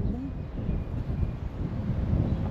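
Gusty wind buffets a small action camera set down outdoors on a cherry blossom walk, a steady low rumble of wind noise against the microphone that swells and dips throughout, loud and close.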